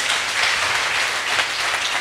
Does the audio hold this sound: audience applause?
yes